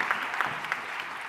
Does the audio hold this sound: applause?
yes